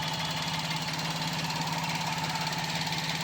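A 2017 Maruti Suzuki Alto 800 LXI petrol engine running at a steady idle, a continuous even hum with a faint rhythmic knock, heard close and without any voices.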